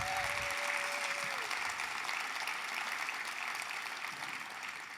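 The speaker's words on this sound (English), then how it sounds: "Can we give them a round of applause?" Steady audience applause at a county government State of the address, dense and sustained, tapering slightly toward the end.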